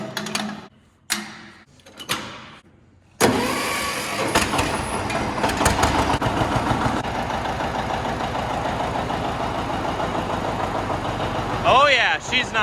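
A 1959 tractor engine sputters through a few short bursts, then settles into a steady, close, knocking idle with a rhythmic ticking.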